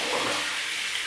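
Steady, close rush of running water as shaving lather is rinsed off hands, a continuous hiss with no breaks or talking.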